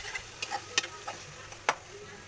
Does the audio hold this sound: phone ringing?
no